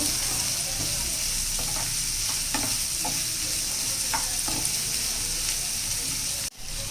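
Vegetables for sooji upma fry in a pan with a steady, even sizzle, broken by scattered scraping taps of a spoon stirring them, close and continuous until a brief drop near the end.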